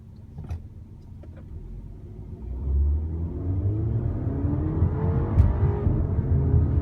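A 2016 BMW X1 engine rumbles low in sport mode, stopped on an incline, then revs up higher and holds a strained, rising drone, with a faint electric whine mixed in.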